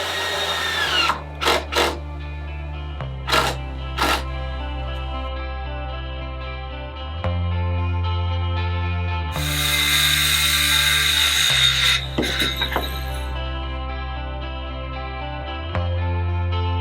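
Power drill driving countersunk screws through plywood into supports, a run of short whining bursts that rise and stop, close and fairly loud over a steady low hum, with one longer high-pitched stretch in the middle.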